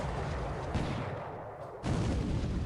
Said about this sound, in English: Yubari hit by 8-inch guns